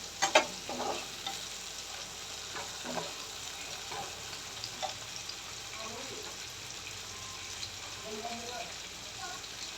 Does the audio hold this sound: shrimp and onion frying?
yes